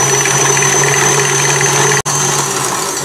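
Electric mixer whipping egg whites while sugar is added bit by bit, for a lemon yule log: a loud, steady, close motor whir with a constant hum, broken by one split-second dropout.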